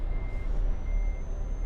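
A truck in Euro Truck Simulator 2 sounds its reversing alarm, a thin steady tone beeping over a low engine rumble, fairly quiet and with no talking.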